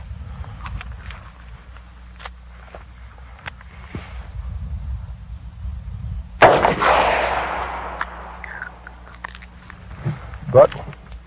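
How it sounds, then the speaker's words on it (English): A .38 Super pistol fires a 110 grain jacketed hollow point round, one sharp loud report at a steady outdoor range, followed by a ringing decay and scattered small clicks and handling noises before and after. "Next, we'll try a 110 grain jacketed hollow point 38 Supervel."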